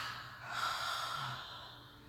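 Heavy, audible breathing through the mouth during a vinyasa yoga breathing exercise: one long, airy breath that swells and fades, close and fairly quiet, with no talking.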